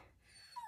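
A puppy trying to get in gives one faint, brief high whimper near the end, after a quiet stretch of soft background noise.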